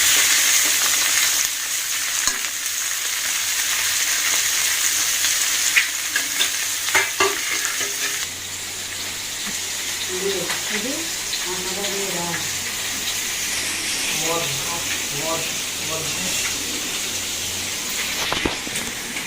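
Dry frying in a home pan, a steady broad sizzle with stirring scrapes running throughout, a faint voice murmuring in the background partway through.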